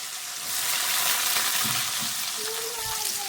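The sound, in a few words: cumin and onion sizzling in hot oil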